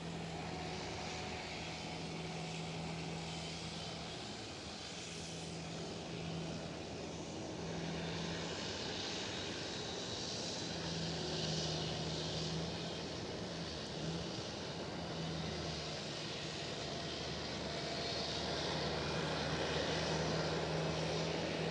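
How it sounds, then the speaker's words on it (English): A KLM Boeing Dreamliner arriving at Amsterdam Schiphol airport, its engines a faint, steady distant roar with a low hum running through, heard alone without talk. "KLM Dreamliner arriving right now, as well as the fire department here on the stand."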